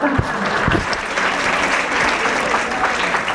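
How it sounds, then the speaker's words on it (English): Steady applause from an audience at a women's club fashion show, many hands clapping continuously at an even level, with no talking standing out over it. "Give her a round of applause"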